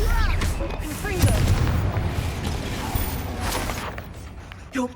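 A Confringo fire spell bursts in Hogwarts Legacy with a loud, booming blast and crackling impacts amid ongoing combat noise and spoken voices.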